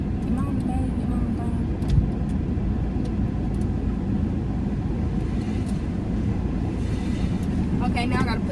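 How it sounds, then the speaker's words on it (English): Steady, loud rumble and wash of machinery surrounds a car inside an automatic car wash, continuing without pause, with faint voices under the noise. "going through the car wash"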